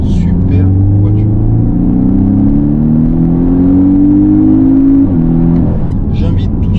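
A Porsche 718 Cayman with a four-cylinder turbo engine and PDK gearbox accelerates close by. The loud engine note climbs steadily in pitch for several seconds, drops sharply at a gear change, then carries on.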